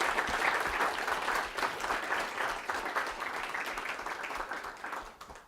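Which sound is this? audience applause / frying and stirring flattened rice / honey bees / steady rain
audience applause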